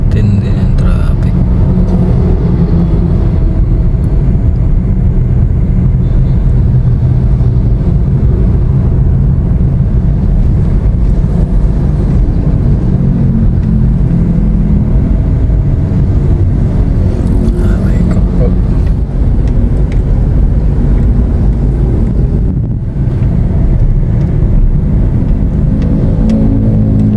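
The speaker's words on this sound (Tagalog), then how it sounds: "Tindi ng traffic." Heavy road traffic on a congested route, a steady loud rumble of engines and vehicles that holds through the whole stretch, with voices talking over it.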